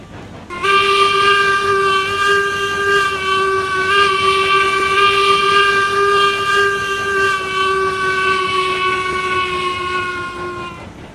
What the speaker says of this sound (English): My little Union Pacific passenger train. Pulled by number 19.